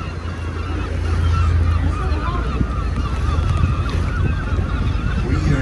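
Geese honk in a scattered chorus near an island on Loch Lomond, set against steady wind and boat engine rumble, moderately loud and without a clear rhythm.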